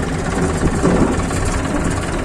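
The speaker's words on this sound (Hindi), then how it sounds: "हमारे यहाँ ट्रैक्टर के ड्राइवर ट्रैक्टर चलाते हुए" A tractor engine runs at a rally alongside camel processions, a loud, dense, steady rumble and drone that holds continuously without pause and with no voices.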